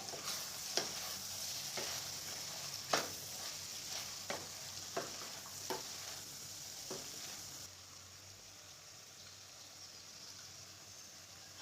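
A spoon stirs garam masala into a mixed vegetable curry in a pan, giving repeated scraping strokes over a steady low sizzle. The stirring fades after about eight seconds and the sizzle goes on quietly alone.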